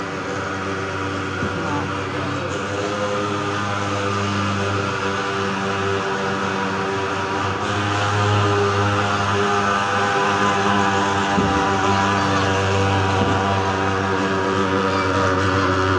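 A steady droning insecticide fogging machine runs continuously outdoors against mosquitoes, a loud low hum that holds throughout with faint voices beneath.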